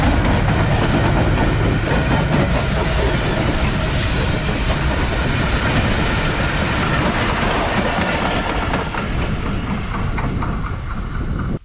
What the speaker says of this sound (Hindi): कमाल की स्पीड में गुजरी है ट्रेन